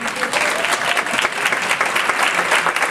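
Audience applause at an African American women's health conference, a steady dense clapping from a large crowd that holds evenly for about three seconds, close and loud.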